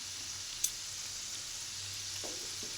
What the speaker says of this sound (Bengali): এটা খুব জোরে আঁচে ভাজবো না, একটু আস্তে আস্তেই ভাজবো